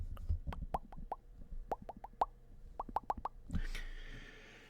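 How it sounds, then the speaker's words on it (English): A series of small plastic clicks and creaks in quick irregular bursts, close up, ending in a brief soft rustle. "Tighten up my mic too a little bit."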